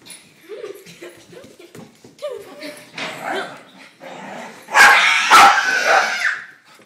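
A pet dog whimpers and yips, then lets out a couple of loud, close barks indoors, with a person's voice mixed in among the sounds.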